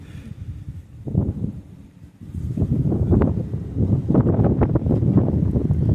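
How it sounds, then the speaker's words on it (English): Gusty wind buffets the microphone in loud rumbling bursts, easing briefly before surging again and holding strong. "It's fucking windy as hell."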